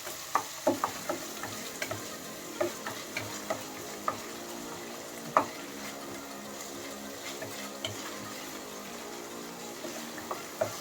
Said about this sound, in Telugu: ఈ అల్లం వెల్లుల్లి పేస్ట్ కూడా వేసి బాగా ఫ్రై చేసుకుందాం.